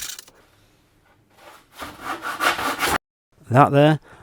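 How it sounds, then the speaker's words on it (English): A handsaw cutting a hardwood board to rough length in a workshop, with a few quick rasping strokes, then a pause, then a short final burst, close and clear. "I decided to cut to rough length with the handsaw"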